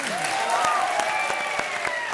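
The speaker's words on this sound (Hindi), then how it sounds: "जोरदार तालियां." A studio audience at a comedy show applauds in a short burst of scattered claps, mixed with a tonal musical flourish and faint crowd noise.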